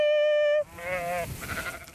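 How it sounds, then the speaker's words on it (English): Sheep on a grass-fed lamb farm beside Lake Champlain, a few bleats heard after a brief sharp tone at the start, fairly close with faint background noise. "It's time to move the sheep at Scuttleship Farm in Panton."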